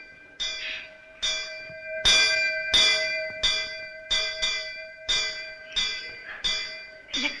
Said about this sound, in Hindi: भूख लगी होगी, घंटी बजा रहा है।